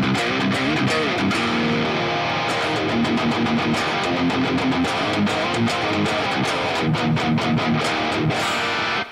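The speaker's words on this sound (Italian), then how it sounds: "perché il pick-up al ponte suona così" Electric guitar on a Tucci Shelly Tai played through the bridge pickup, a bright, open, twangy tone with chords and picked notes sounding continuously and loud, no voices.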